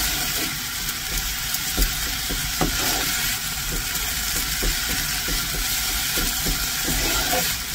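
Leafy greens fry and steam in a pan as their water cooks off, a dense, even hiss with regular light ticks of stirring throughout.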